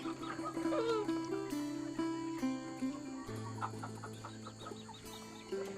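Chickens on a small Thai farm cluck and chatter continuously, several birds overlapping up close with occasional louder calls.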